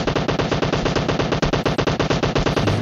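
Sustained rapid automatic gunfire in PUBG Mobile on the Miramar desert map, a loud continuous burst of evenly spaced shots running for about three seconds without a break.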